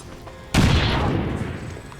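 A grenade explosion in the tactics game X-Com 2: War of the Chosen, a sudden loud close blast that cuts through quiet and then rumbles and decays over about a second and a half.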